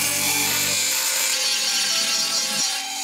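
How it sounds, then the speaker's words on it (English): Continuous loud, close hand rubbing or sanding as parts of an Iron Man forearm launcher build are roughed up for epoxy, steady and unbroken, with no talking. "I need to prep them and get it roughed up so that it sticks permanently when I put these things on with epoxy"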